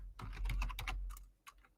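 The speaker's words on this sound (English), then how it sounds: "I'm just typing in now." Rapid typing on a computer keyboard, a dense run of close, crisp key clicks that slows near the end, heard alone with no talking.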